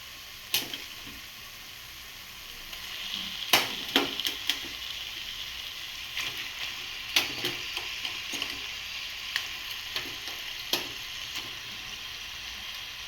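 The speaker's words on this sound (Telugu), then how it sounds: "నీట్గా కడిగి పెట్టిన చికెన్ అయితే ఇప్పుడు కర్రీలో వేసుకుందాం." Washed raw chicken going into a sizzling curry in a pan, then being stirred: a soft, steady sizzle under sharp spoon clacks and scraping knocks, clustered at irregular intervals.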